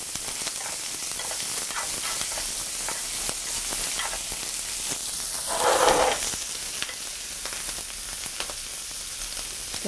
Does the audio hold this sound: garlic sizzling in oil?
yes